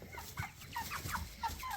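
Farm chickens fed before processing give soft, quiet clucks and burbling calls in a short, faint run of overlapping bird sounds.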